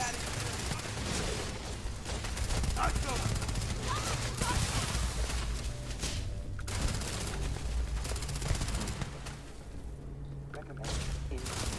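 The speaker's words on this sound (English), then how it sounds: "They have guns." Enemies in the video game Headhunter fire guns in continuous dense bursts of gunfire mixed with game sounds and low rumble, and a voice is partly audible underneath.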